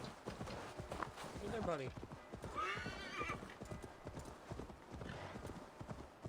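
Horse hooves in Assassin's Creed Valhalla: a steady, close clip-clop of a walking horse, joined by a whinny, with someone speaking briefly over it.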